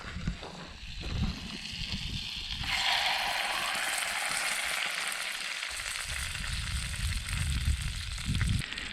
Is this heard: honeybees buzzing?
no